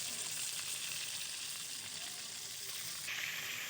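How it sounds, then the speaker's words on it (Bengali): Pangas and tengra fish pieces frying in hot oil, producing a dense, continuous close-up sizzle and spatter that brightens slightly toward the end, with no talking. "তাও এইভাবে মাছগুলো আমি সব ভেজে নেবো।"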